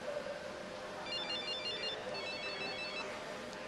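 A telephone rings in an Indonesian TV drama scene, giving repeated electronic ringtone trills that come and go over a steady noisy room background, fairly faint.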